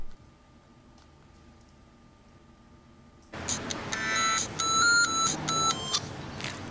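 A phone ringing tone starts abruptly after a quiet stretch: repeated electronic beeping tones, fairly loud and close, over a noisy background.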